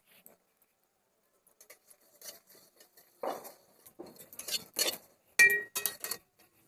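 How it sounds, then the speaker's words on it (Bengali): Whole coriander, cumin, fennel seeds and dried chillies are dry-roasted in a pan, giving sparse clicks at first and then busier rattling, tapping bursts as the spices are tossed and stirred. "গোটা ধনে, গোটা জিরে, গোটা মৌরি আর শুকনো লঙ্কা একসাথে ভেজে নেব"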